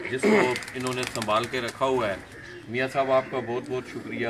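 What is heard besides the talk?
Lakha pigeons cooing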